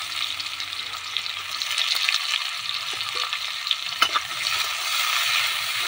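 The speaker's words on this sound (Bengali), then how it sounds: "এখন পেঁয়াজ কুচিটাকে ভালো করে নেড়ে নিচ্ছেন।" Chopped onion fries in a pan for a Bengali-style egg curry and is stirred steadily, giving a continuous close sizzle with faint scraping and occasional clicks of the spoon.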